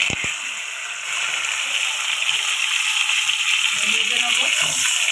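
Pieces of sweet potato are dropped into hot mustard oil in a pan and fry with a steady, close, bright sizzle that keeps up throughout.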